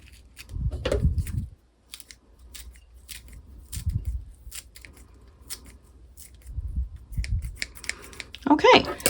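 Fresh basil herbs snipped with scissors in a few short bursts of crisp cutting, with quiet pauses between and a sharper snip near the end, close to the microphone.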